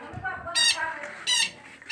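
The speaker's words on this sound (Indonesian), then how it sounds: "Burung bayan nih." Parakeet (burung bayan) squawking at an Iban longhouse in Betong, Sarawak, giving two loud harsh squawks about half a second apart, with a third starting at the end, over quiet background murmur.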